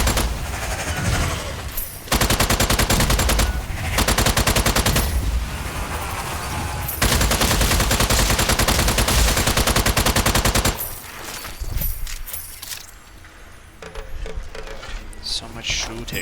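Rapid bursts of gunfire from the video game Strange Brigade come in long dense volleys with brief pauses, loud and close, with a voice talking over parts of it.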